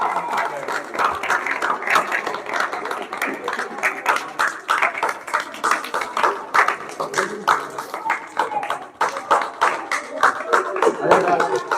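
An audience at a coaching centre's annual function claps in steady, rhythmic bursts close by. Someone talks loudly over the clapping throughout.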